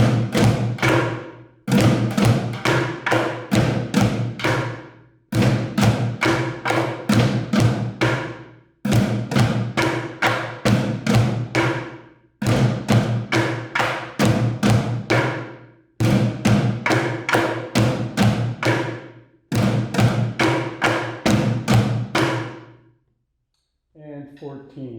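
Bucket drums are struck in repeated bursts of sharp, rapid hits with a foot-played bucket as bass drum, loud and close, each burst running a few seconds before a short pause, seven rounds in all.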